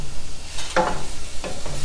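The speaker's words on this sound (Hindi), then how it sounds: "गोश्त या चिकन जो भी आप यूज़ करें उसको अदरक लहसुन की पेस्ट के साथ ही डाल दें और उसको अच्छी तरह मिक्स करें" Meat with ginger garlic paste sizzles in a pan while being mixed, with two distinct spoon scrapes over a soft frying hiss.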